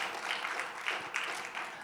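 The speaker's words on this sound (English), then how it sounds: "he deserves a round of applause right now" A short, fairly faint round of applause at an annual business meeting for a youth director, steady clapping from a seated crowd.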